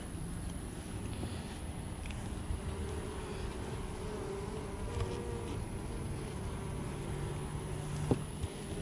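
Honey bees hum in a dense, steady drone throughout a beehive inspection, loud and continuous with no talk.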